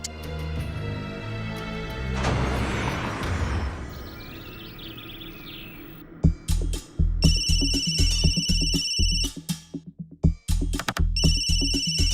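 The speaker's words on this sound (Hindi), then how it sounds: "बेचारी बार बार फोन कर रही है, क्या करें?" A phone ringtone plays bright, repeating electronic beeps in a pulsing rhythm, coming in partway after a noisy, muffled musical stretch.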